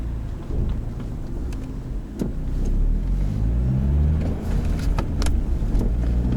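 A Genesis Coupe 2.0 with a manual gearbox accelerates hard, its engine note rising in a steady, loud, close rumble that builds across the run, with a few sharp clicks over the top and no voices.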